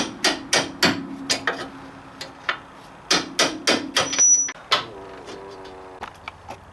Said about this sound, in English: it's going to hammer out this bolt